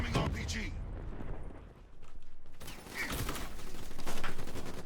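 Gunfire in a Call of Duty: Black Ops III multiplayer match: bursts of shots and mechanical clatter come in dense uneven volleys over several seconds, with a brief lull in the middle, while a player talks over the action.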